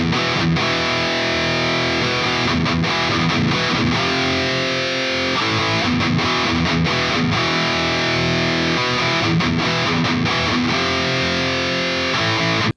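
Distorted electric guitar plays a first outro riff: chugging power chords hit in repeated bursts with brief choppy gaps, loud and close, with no talking.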